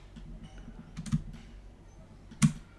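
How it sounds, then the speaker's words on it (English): A single computer keyboard key, the escape key, is pressed during Blender modelling, giving a brief, close click around the 2.4-second mark after a lighter tap earlier, with no talking over it. "I'm gonna hit escape on the keyboard"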